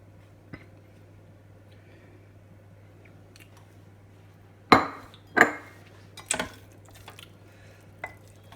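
A few sharp scrapes and knocks of a spoon stirring egg into thick choux pastry paste in a pan, scattered irregular strokes over a quiet background hum.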